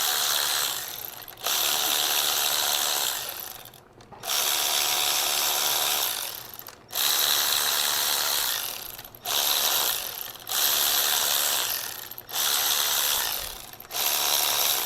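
A hand ratchet tightens the fuel rail bolts on an LT4 engine. Loud, close bursts of rapid clicking run for a few seconds each and are split by short pauses as the tool resets.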